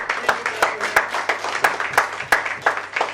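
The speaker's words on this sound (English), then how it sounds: "please clap for him" A quiz competition audience claps for a prize winner, with regular close claps of a small group spaced about a third of a second apart, nobody talking.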